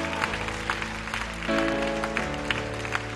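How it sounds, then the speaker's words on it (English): Congregation at a church service clapping hands in a steady rhythm over sustained organ or keyboard chords, with the claps sharp and close. "Put your hands together if you're clapping."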